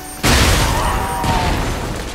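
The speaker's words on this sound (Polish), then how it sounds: "jeden strzał z tych sokolich oczu jest w stanie zabić przeciwnika." A single gunshot from the Falcon Eyes rifle in the video game Lies of P booms out suddenly and loud, then a sustained rumbling tail rolls on beneath other game sounds.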